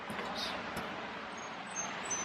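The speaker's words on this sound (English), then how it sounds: "Excuse the road noise because it's loud." Steady broadband road noise from passing traffic, loud and continuous, with a faint hiss throughout and no clear individual vehicles standing out.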